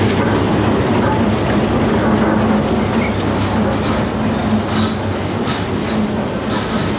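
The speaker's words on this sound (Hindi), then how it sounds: "HPU 28049 के साथ शंटिंग लोकोमोटिव है और रेक प्लेस हो रहा है 8 डाउन तेज़गाम का" A shunting locomotive, HPU 28049, places the rake of the 8 Down Tezgam express at platform 3, producing a loud, steady rolling rumble with rail clatter and faint metallic squeals throughout.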